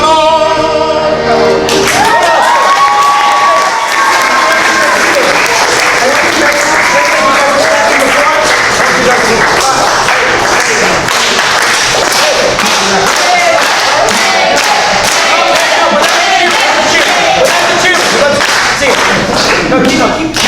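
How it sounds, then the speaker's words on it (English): Applause from an audience at a youth talent show, dense steady clapping that carries on without break, loud and close, with some crowd noise mixed in. "No, you gotta keep clapping, just don't quit."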